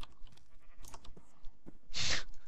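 A sheep in a Minecraft-style video game gives one loud, short bleat near the end, after a stretch of quiet clicks and soft in-game sounds.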